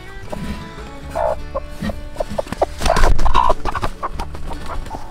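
A broody hen on a farm gives repeated clucking and agitated calls close by, loud and busy, with other fowl sounds mixed in and no talk.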